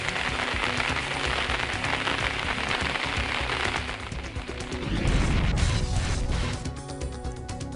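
Heavy rain driven by a windstorm lashes villages around Kati in Indapur, a dense, steady roar with clattering, crashing bursts and a deeper surge of wind near the end, with no voices.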